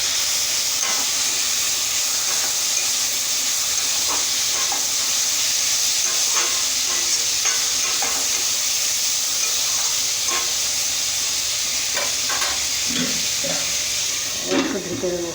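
Food fries in a pan with a steady, loud sizzle and hiss while a utensil stirs it with occasional scraping knocks, in a home kitchen cooking carrots and rice.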